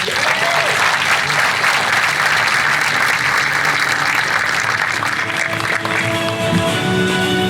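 Audience at the Chula Vista State of the City 2024 address applauding the Port Commissioner, a dense, loud burst of many hands clapping that carries steadily throughout, with a few cheers and faint voices mixed in.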